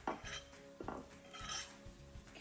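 Snow slime being stirred in a bowl gives squelchy, wet scraping strokes with clinks of a utensil against the bowl, repeated several times at close range without talk.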